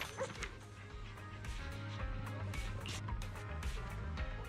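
Dog barking in the video game Zenless Zone Zero: a run of short yips and bow-wows over a steady game background hum, fairly quiet, with a voice speaking briefly.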